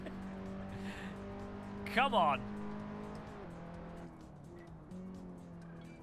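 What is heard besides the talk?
Skip Barber race car engine in Assetto Corsa video game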